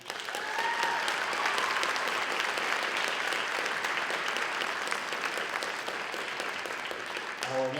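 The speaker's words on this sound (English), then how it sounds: "A round of applause for them." A school concert audience applauds band soloists at a spring concert, giving dense, sustained clapping that holds steady for several seconds before a voice begins as it fades.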